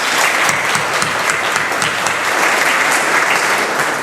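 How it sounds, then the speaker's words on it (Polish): Loud, dense applause from an audience at the 60th anniversary jubilee of the MKS Hermes Gryfino sports club, honouring the coaches. The clapping stays steady and close throughout, with no voices over it. "Brawa dla trenerów."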